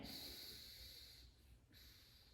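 A person takes a slow breath in through the nose during a 90/90 breathing exercise, a faint, quiet, airy draw heard close and alone, with no talking.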